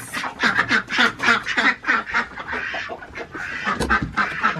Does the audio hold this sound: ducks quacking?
yes